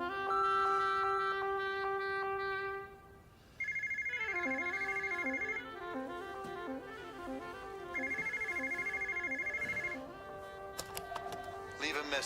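Telephone left unanswered, ringing in repeated electronic trill bursts with short gaps between them, moderately loud and close, with no voices over the rings.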